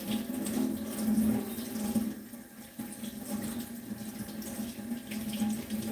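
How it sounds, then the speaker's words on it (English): Tap water runs steadily into a sink as an orchid flower is rinsed under it, a continuous close splashing rush with no talking. "we wash the flower, the orchidea, we wash it"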